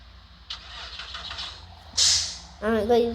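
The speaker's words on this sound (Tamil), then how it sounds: "இன்ஜின் சவுண்டை மட்டும் கேட்டுக்கோங்க" Bus engine in the video game Bus Simulator Indonesia, shutting off and starting again: a hissing burst followed by a rising, harmonic engine whine as it fires up, with brief talk-like sounds earlier in the clip.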